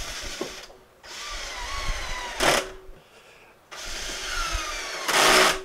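A power drill drives screws through a metal faceplate into a wooden bowl blank, heard as several close, whirring bursts of varying length separated by brief pauses.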